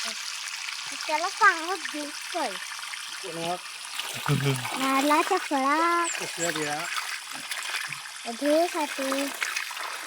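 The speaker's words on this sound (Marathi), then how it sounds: "आळी म्हणजे बघा हे असं त्यांना आपण पाणी घालतो" Water poured into dug basins around garden plants, a soft continuous trickle and splash heard beneath frequent talking.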